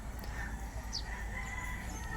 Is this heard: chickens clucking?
yes